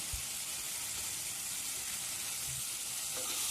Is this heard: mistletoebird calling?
no